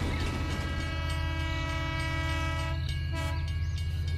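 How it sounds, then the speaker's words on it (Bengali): A cartoon train pulls into a station, a loud steady rumble with sustained horn tones and a brief whistle over continuous rolling noise, with no talk. "স্টেশনের ঘড়িতে 11টা বাজতেই সেখানে ট্রেন এসে পৌঁছায়।"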